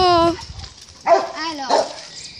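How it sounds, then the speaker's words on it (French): A dog at a home where goats are kept gives a drawn-out whine, then two short, close barks in quick succession, loud and near. "Donc excusez-moi pour le putain de chien."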